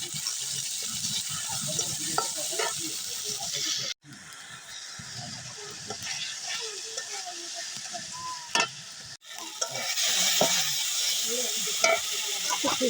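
Potato pakora batter with green chili, onion, sliced potato and gram flour sizzles in hot oil while being stirred, a continuous close frying hiss with scraping touches and two brief cuts, faint voices in the background.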